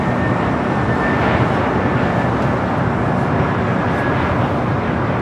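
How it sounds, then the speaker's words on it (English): A Hawaiian Airlines A321neo on approach to LAX from Honolulu, heard as a steady, loud broadband jet roar that fills the whole stretch without letup and carries a faint high whine. "Hawaiian flight 897. The flight coming from Honolulu. It's an A321neo."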